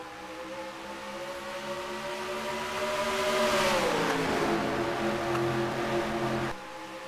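Race cars in an online stock-car league game at Chicagoland roar as they accelerate, engine tones steady and then dropping in pitch as the pack heads into the turns, loud and continuous before cutting off near the end.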